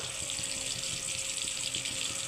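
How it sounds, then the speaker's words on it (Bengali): Dried shrimp being washed under a steady stream of running tap water in a kitchen, a continuous close splashing rush throughout with no talk. "চিংড়ি শুটকি ভালোভাবে ধুয়ে নেবেন।"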